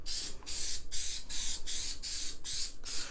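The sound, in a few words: spraying adhesive from a spray can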